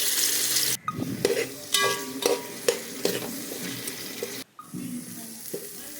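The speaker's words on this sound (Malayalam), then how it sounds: "ചുവട് കട്ടിയുള്ള ഒരു പാത്രത്തിലേക്ക് രണ്ട് സ്പൂൺ സൺഫ്ലവർ ഓയിൽ ചേർത്ത് ചിക്കൻ അതിലേക്ക് ഇടുക" Chicken sizzling in sunflower oil in a heavy-bottomed pan, with close stirring scrapes and clatters over a continuous hiss, broken by two brief cuts of near-silence.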